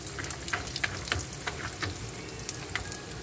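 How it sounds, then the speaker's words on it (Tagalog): Peanuts frying in a little oil in small batches, a close crackling sizzle with frequent sharp pops and ticks scattered irregularly throughout, no voices. "Lutuin natin ng by batch kasi ayoko gumamit ng maraming mantika."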